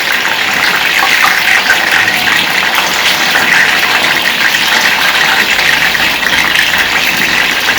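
Stuffed Guntur brinjals fry in hot oil with a loud, dense, continuous sizzle and crackle, close up and with no voices.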